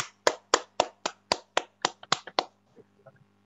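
Audience greeting a speaker with applause at an event, heard as roughly a dozen sharp, separate claps in a quick, even rhythm over a low steady hum, then a few faint taps as it fades.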